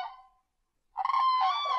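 A goose honks as a sound effect in a narrated folk tale, with a short nasal honk fading out, a brief silence, then a louder, sustained honking call.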